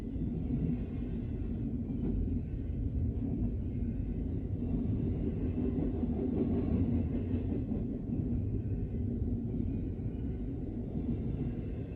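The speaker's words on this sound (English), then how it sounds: "I'm gonna take a few pictures of this Heritage 1 locomotive here" A Heritage 1 locomotive rumbles past in a steady, loud low roar that holds for the whole stretch, with a faint metallic rattle riding on top and no talk.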